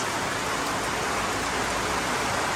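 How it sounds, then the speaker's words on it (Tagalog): Heavy rain pours down in a dense, loud, unbroken hiss that fills the whole moment, close and constant with no voices. "tingnan nyo ang ulan, lakas"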